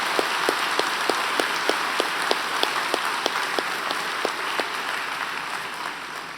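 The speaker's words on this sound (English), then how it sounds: "let's all give these folks a big round of applause." Sustained applause from a large crowd at a university graduation convocation, a dense steady roar of clapping with a few sharper individual claps standing out, no talking.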